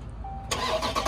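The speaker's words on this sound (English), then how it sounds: "Go ahead and start it up." A Dodge Charger Scat Pack widebody fires up, a sudden loud engine catch after a brief quiet lead-in, then settles into a rough idle close by, with no talking.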